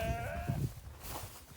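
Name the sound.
sheep bleating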